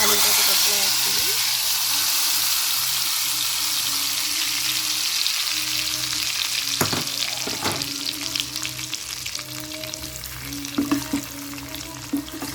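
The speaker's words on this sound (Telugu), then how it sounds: "తాలింపు పప్పులో వేస్తున్నాను." Hot tempering of dried red chilies and curry leaves poured into dal cooked with sorrel leaves and tomato, giving a loud, steady sizzle that gradually eases, with a few spoon clinks near the end.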